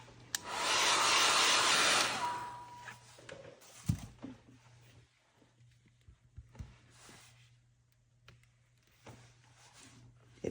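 A hair dryer blows loud and close on a mixed media abstract painting for about two seconds, then cuts off, followed by quiet scattered knocks and handling sounds.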